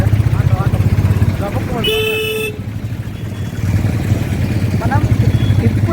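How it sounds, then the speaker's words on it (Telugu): A motorcycle ridden through Medaram, its engine droning steadily with a loud horn toot partway through amid road traffic, while people talk over the ride. "మనం ఇప్పుడైతే మేడారంలో బైక్ మీద తిరుగుతున్నాం."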